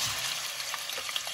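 Mutton pieces fry in hot oil, giving a continuous close sizzle with light crackles and faint stirring, no talking.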